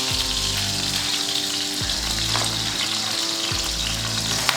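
Grass-fed beef steak sears in a pan of hot grease, a loud, steady crackling sizzle with dense popping spatter running throughout, close and without any voices.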